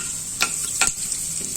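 Cumin and asafoetida sizzle in hot oil for Malvan-style vada pav, a constant close hiss broken by two sharp utensil taps against the pan.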